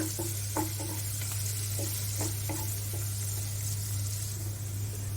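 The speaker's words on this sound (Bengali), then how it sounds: "কিছুক্ষণ ভাজবো তেলের সাথে।" Garlic, onion and green chili fry in hot oil with dried chili. A soft, steady sizzle runs throughout, broken by light intermittent stirring clicks, with a constant low hum underneath.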